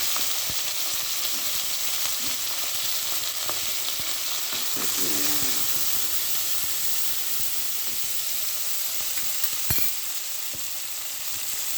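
Green chilies and curry leaves sizzle in hot oil with popped mustard seeds for mango rice, a steady loud frying hiss with brief stirring, no voices.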